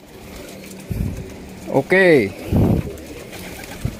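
Plosur-breed pigeons coo in a few short throaty calls at close range, with someone speaking briefly over low background noise.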